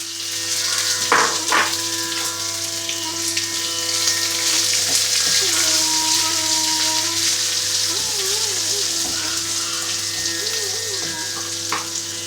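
Onion and ginger frying in hot oil, a steady loud sizzle running throughout with a few stirring scrapes and clinks near the pan, no voices over it.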